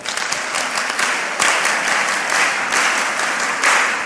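An audience claps loudly for a woman during a mentorship session, a thick continuous burst of many hands that stays strong for about four seconds.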